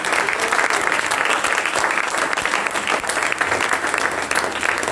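A church congregation applauds during a worship service, a loud dense burst of steady clapping from many hands that fills the room and carries on without pause.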